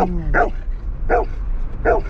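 A large dog barks close by, giving three or four loud, evenly spaced barks about three-quarters of a second apart, with low background rumble between them.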